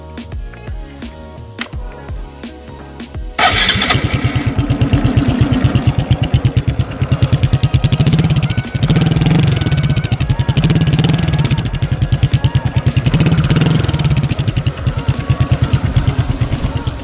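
A Honda XRM125 FI motorcycle fitted with a DIY HGM muffler pipe is revved close up, moving from a choppy idle into a loud, steady, throaty engine drone.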